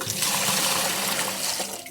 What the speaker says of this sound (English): Remove our filter there and just tip the excess water out.